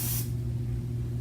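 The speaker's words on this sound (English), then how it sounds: "We put that same powder into an aerosol." An aerosol can of dry shampoo powder, charged with butane propellant, lets out one short, sharp hiss that cuts off quickly, leaving a low steady hum.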